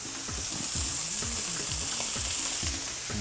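Filet mignon fries in butter in a pan, giving a constant bright sizzle with soft rhythmic stirring or basting sounds beneath it. It is close and steady, and no one talks.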